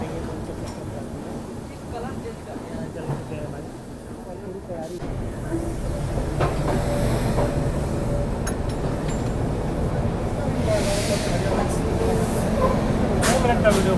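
Rumble and hiss from inside the Poorvottar Sampark Kranti Express rolling slowly past Kamakhya station, growing louder and steadier midway, with a voice talking over it.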